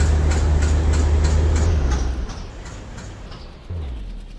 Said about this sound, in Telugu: ఈ ట్రైన్ బయలుదేరుతుంది ఏంటిది ఇప్పుడు?